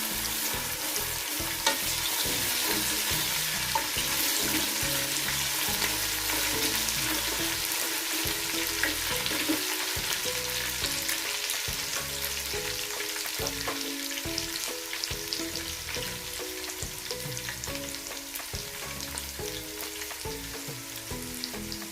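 Garlic ginger paste fries in a pot for beef yakhni pulao, a dense, steady sizzle with crackling pops and occasional stirring, close and continuous with no voices.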